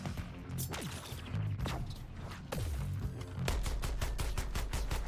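Rapid bursts of gunfire in the video game Suicide Squad: Kill the Justice League, with heavy impacts and crashing blasts, building into a fast automatic rattle near the end.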